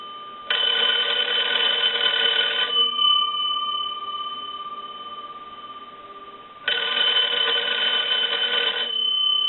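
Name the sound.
Kellogg wood wall telephone bell ringing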